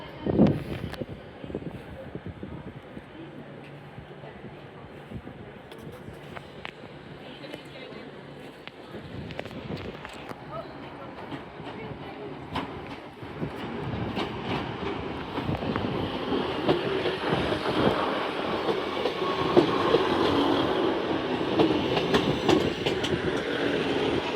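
A British Rail Class 185 diesel train runs at Manchester Piccadilly, a rumble that builds steadily louder over about twenty seconds with rail clatter and station ambience, and people talk faintly in the background.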